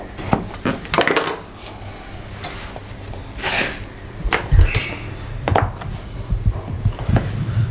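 Milk barfi being cut into pieces, with scattered knife knocks and clinks against a plate or tray, loud and close, coming in irregular bursts.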